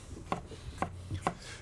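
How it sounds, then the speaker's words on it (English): Plums are chopped on a cutting board during a barbecue cooking show, three crisp, evenly spaced knife chops, close and clear, with quiet background between strikes. "chopping my plums without a goddamn care"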